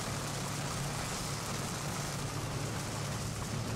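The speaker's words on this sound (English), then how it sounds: "It is raining" Steady rain, a dense even hiss with a low rumble underneath, continuing unbroken throughout with no voices.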